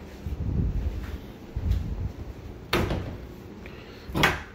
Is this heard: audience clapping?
no